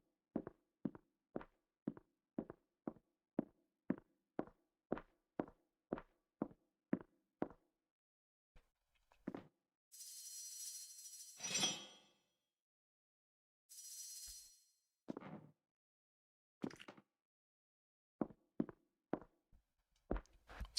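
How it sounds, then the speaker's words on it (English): Footsteps on a wooden ladder and wooden platform in the video game Divinity 2: Ego Draconis, a run of about fifteen evenly spaced hollow wooden thuds, then a brief rustling swoosh and a few scattered steps and taps, all close and clear. "all you hear are the wooden footsteps, or the footsteps on the wood ladder or the wood platform"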